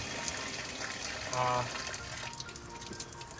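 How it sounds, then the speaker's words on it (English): Water runs from a brass rainhead on an outdoor shower, a steady close splash and patter filling the moment, with a brief brighter gush partway through. "This drips for a bit after you run it the first, you know, your sour head"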